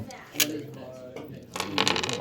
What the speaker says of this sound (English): shuffle the warrior deck